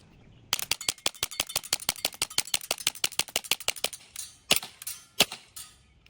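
A green gas airsoft gun fired on full auto: a fast, evenly spaced string of about two dozen sharp cracks, loud and close, then a few separate single pops as the magazine runs out.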